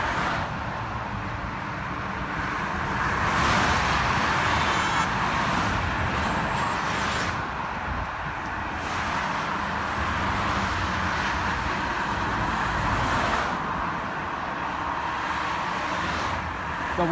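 Cars racing on a road, a continuous broadband roar of engines and tyre noise with several vehicles sweeping past in waves, steady and moderately loud throughout.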